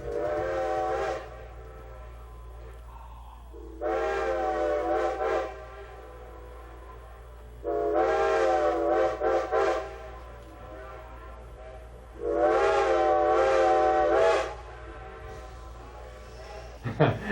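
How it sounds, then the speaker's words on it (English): A steam locomotive whistle at Carpenter's Crossing on the Strasburg Rail Road sounds four times in long chorded blasts, each separated by a pause, over a low steady rumble. "sometimes when we blow our whistle here at Carpenter's Crossing"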